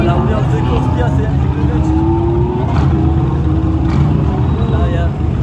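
Race cars including GT4 machines such as a BMW M4 GT4 roaring back to speed on a circuit after a red flag, a loud continuous engine drone with rising revs, layered with crowd ambience.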